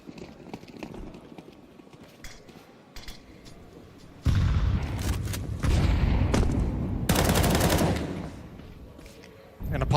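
Gunfire in a Counter-Strike 2 round at a pro match, pistol-round Glocks in play, with bursts of dense sprayed shots mixed with broadband game noise, loud and close in sections, under a running commentary voice.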